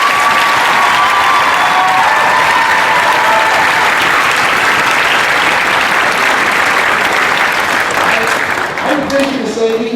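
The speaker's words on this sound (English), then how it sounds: "big round of applause for her" An audience at a school combined ensembles concert breaks into loud, dense applause with some cheering, a full roar of clapping that holds steady throughout and thins slightly near the end as a few voices come through.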